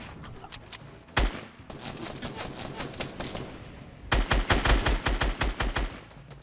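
Fortnite Battle Royale gunfire: bursts of rapid automatic shots crack out, one sharp loud shot, then a dense close volley of evenly spaced rounds toward the end, with softer distant fire between.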